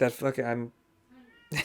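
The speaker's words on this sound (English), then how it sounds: "Yeah, that's a cat" A faint cat meow sounds between two bursts of close, loud speech.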